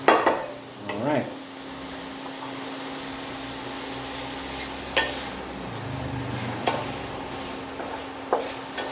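Ground pork stir-fried in a pan for Thai pad krapau: a steady sizzle runs throughout, with a few scraping stirs and clinks of the utensil against the pan, and no talk.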